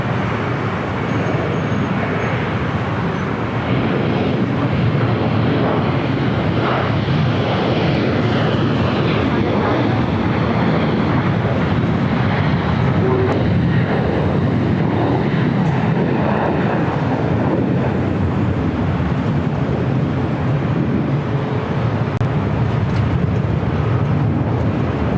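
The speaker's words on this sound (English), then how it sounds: "Possibly the Delta 757 heading back to the gates, still on taxiway Charlie." A Delta Boeing 757 taxis on taxiway Charlie at LAX toward the gates, its jet engines giving a steady, loud broadband roar that holds without a break for the whole stretch.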